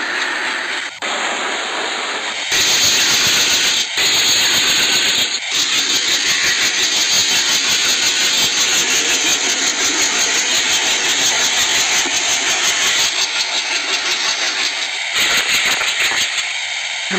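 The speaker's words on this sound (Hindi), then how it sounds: "हम लोग करेंगे इस लोकोमोटिव के इंजन साउंड को चेंज" An ALCO diesel locomotive engine in the Trainz Simulator game starts up, then settles into a loud, steady, rumbling idle that runs on with brief cut-outs and no voices.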